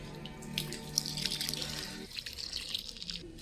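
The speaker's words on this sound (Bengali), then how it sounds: "চলো, প্রথমে এই বড় টবটার মধ্যে একটু জল দিয়ে দিই, তারপর কাদা কাদা করে নেবো একটু মাটিটা।" Water poured into a large tub of soil while preparing to plant a lotus tuber, a close splashing and trickling flow that eases off into softer drips after a couple of seconds.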